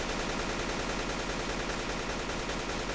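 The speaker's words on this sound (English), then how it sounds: "Shooting, he's shooting." Continuous dense automatic gunfire in a video game, a steady rattling stream of shots at constant loudness for the whole stretch.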